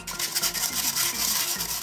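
A pastry brush spreads a little oil over paper cupcake cases, giving a soft continuous rubbing and scratching texture, close and moderately loud, with no one talking.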